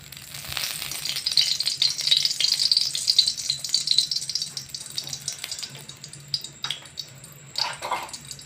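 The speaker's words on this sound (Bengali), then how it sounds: "এবার এই তেলটাকে আমি চারিদিকে একটু ছড়িয়ে দিচ্ছি।" Oil being spread around a hot kadai for frying kola pithe (banana fritters) gives a close, steady sizzle and hiss with light scraping rattles of the utensil against the pan.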